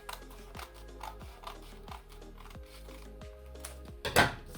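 Scissors snip through Ankara print fabric to cut out a circle patch, giving a series of light, close clicks and crisp snips at an uneven rhythm, followed by a louder rustle of the cloth near the end.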